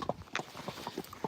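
Hooves of Friesian horses clip-clop in a quick, irregular run of sharp knocks, close and fairly loud, with no talk.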